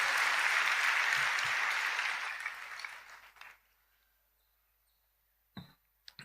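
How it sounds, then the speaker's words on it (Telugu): A congregation at a church service claps loudly together in sustained, dense applause for a few seconds, then it fades out, leaving a couple of isolated sharp knocks. "గట్టిగా చప్పట్లు కొట్టి దేవునికి స్తోత్రం చెప్తూ మహింపరుద్దామా?"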